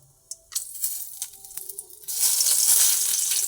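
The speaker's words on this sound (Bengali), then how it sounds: "তেজপাতাটা একসঙ্গে অল্প করে ভেজে নেব" Garam masala and a bay leaf fry in hot oil for a vegetarian ghugni, with a few soft crackles and taps that swell into a steady, bright sizzle.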